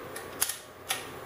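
Two brief mechanical clicks of a Mamiya C33 Professional medium format camera shutter, crisp and close, separated by about half a second of quiet.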